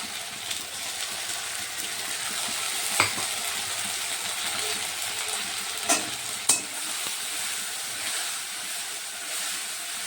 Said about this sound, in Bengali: গ্রাইন্ড করা আদা, রসুন, পেঁয়াজ এগুলো দিয়ে দিচ্ছি প্রথমে।